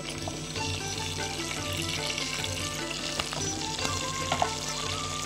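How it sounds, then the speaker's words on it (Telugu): Mustard seeds, cumin, green chillies and curry leaves crackle and sizzle steadily in hot oil for a tempering, a dense continuous frying hiss with a few sharper pops near the end, close and fairly loud. "సో ముందుగా అంటే మీరు పోపు వేస్తున్నారన్నమాట"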